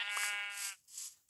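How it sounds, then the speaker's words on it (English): Sheep bleating in a Minecraft-style video game, two wavering bleats close by, the first long and loud, then a shorter one after a brief gap. "why is there so much sheep down here?"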